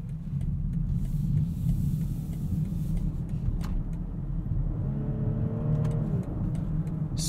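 A 2021 BMW X5 xDrive45e plug-in hybrid driving along, its engine and road noise forming a steady low rumble throughout, with a faint rising whine toward the end as power shifts.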